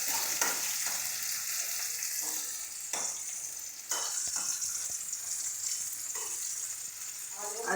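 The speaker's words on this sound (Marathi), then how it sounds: "कांदा तळल्यावर टमाटर टाकायचं. टमाटर तेलात इगरू द्यायचं" Tomatoes sizzle and fry in oil on top of already fried onions for a matki fry, a steady close hiss broken by stirring scrapes and soft clacks.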